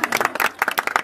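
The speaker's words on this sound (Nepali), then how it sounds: "ताली पनि बजाऊ है" Guests clap at a wedding, a loud close burst of quick uneven hand claps coming in short clustered waves over about a second.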